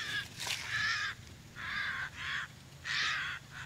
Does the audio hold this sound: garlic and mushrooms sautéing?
no